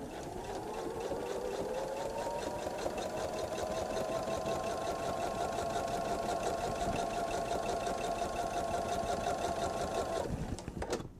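A sewing machine stitches steadily with a stitch in the ditch foot on a bench pillow, a close, continuous mechanical whir with a rising hum at the start, stopping abruptly near the end.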